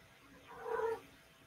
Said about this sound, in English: it sounds like your cat also approves heartily